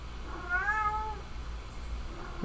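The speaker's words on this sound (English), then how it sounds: "Sorry, the cats." Pet cats meowing indoors, a single clear drawn-out meow in the middle over a low steady background hum, fairly close and moderately loud, with no talking.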